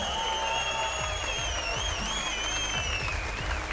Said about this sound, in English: one more round of applause for your winners and the champions